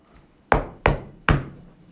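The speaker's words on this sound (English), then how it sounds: "I knocked on the brick house." Three sharp knocks on the door of a brick house, close and loud, the first two quick and the third after a short pause, each with a brief hollow ring.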